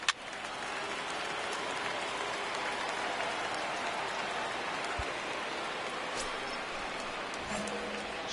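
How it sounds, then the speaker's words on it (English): Steady rain pours down over a baseball stadium in MLB The Show 19, a continuous hiss of falling drops with a few faint crowd and field sounds underneath. "Not exactly ideal baseball conditions with the rain coming down"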